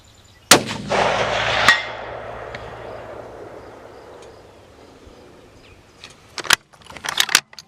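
One sharp, loud crack from a Ruger Precision rifle during long range shooting, echoing briefly with a second crack soon after, then a long fading tail and a few small clicks and knocks at the end.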